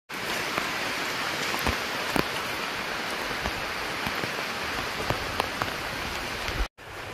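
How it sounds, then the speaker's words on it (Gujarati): Heavy rain pours steadily in the Gir forest, a dense close hiss of drops striking nearby surfaces with scattered sharper taps, loud and continuous. "વરસાદ તમે જોઈ શકો છો, ધોધમાર આવે છે."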